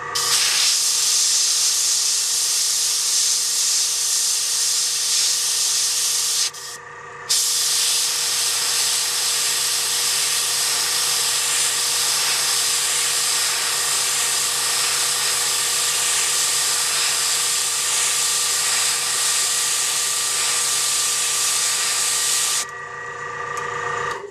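An airbrush sprays with a steady, loud hiss of compressed air continuously for the whole stretch, with two brief dips where the flow pauses before resuming.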